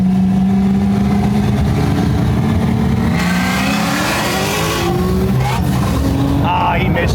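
Tuned BMW M3 engine heard from the passenger seat during a race, a steady loud drone with rising and falling pitch as it accelerates and shifts, with voices talking over it.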